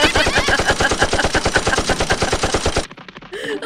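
Rapid automatic gunfire in a video game, a dense steady burst of shots for nearly three seconds, then a short quiet and another brief noisy burst.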